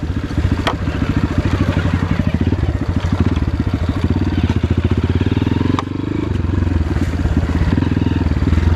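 Honda CRF dirt bike engine revving hard and steadily up close, a loud continuous rasping buzz with rapid firing pulses that dips briefly and picks back up, no talking.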